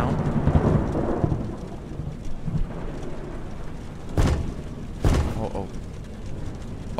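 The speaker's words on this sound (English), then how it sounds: "the rain has started once again" Rain falls steadily in The Joy of Creation: Story Mode, with two sharp thunder cracks close together in the later half, loud and near, over a constant rumbling wash.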